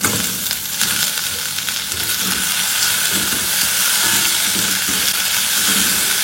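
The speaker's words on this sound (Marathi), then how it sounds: "आणि आता ह्याच्यामध्ये आपल्याला टोमॅटो थोडी सॉफ्ट होईपर्यंत परतून घ्यायची।" Tomato pieces sautéing in a pan with garlic and ginger, a steady loud sizzle and hiss of frying throughout, close up and continuous, with occasional stirring and no talk.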